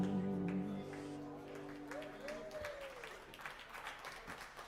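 An audience claps steadily after a held musical tone fades out. The applause is scattered and moderately loud.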